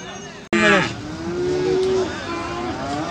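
A cow at an outdoor livestock market lets out a loud, drawn-out moo right after a sharp knock, while other cattle low more faintly across the busy yard for several seconds.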